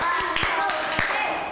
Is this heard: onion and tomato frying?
no